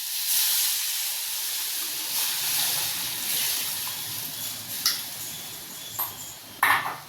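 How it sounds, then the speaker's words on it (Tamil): Tamarind water poured into a hot pan of thuthuvalai rasam gives a steady broadband sizzle and steamy hiss lasting several seconds, with a few sharper crackles near the end; no one speaks. "புளியை ஊற்றியாச்சு"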